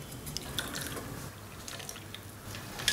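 Boiled fenugreek water, reduced to about a cup, is poured through a strainer, making a soft, quiet trickle and scattered drips in a kitchen, with no talking.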